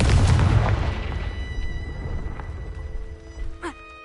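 A fire-blast spell explodes in the game Hogwarts Legacy with a loud, deep boom at the start that rumbles and fades over a few seconds, followed by a brief bright chime.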